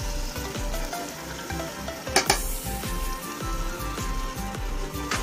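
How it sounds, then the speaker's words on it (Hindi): Peas tumble into a pan of sizzling mutton curry, adding a brief clattering burst over a steady, close hiss of frying oil that crackles on with a soft, rain-like patter. "अब मैं मटर इसमें अभी डाल रही हूँ"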